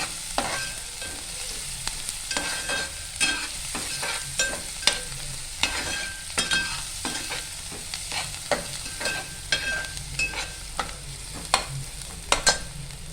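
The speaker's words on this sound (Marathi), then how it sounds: "मग ते आपण एकत्र असं परतवून घेऊया. कांद्याला कलर येईपर्यंत." Onions sautéing in a pan for a Marathi radish bhaji with dried fish: steady sizzle of frying broken by repeated sharp scrapes and clinks of a spoon stirring, loud and close, with no talk.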